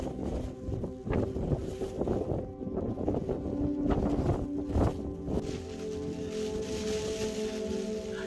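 Wind blows over the Mount Pulag summit trail in steady gusts, roaring and buffeting against the microphone with a continuous low rush that swells and eases, and no voices are heard.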